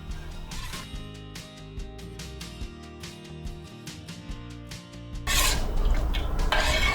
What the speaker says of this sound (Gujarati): અને બરાબર મિક્સ કરી લઈશું।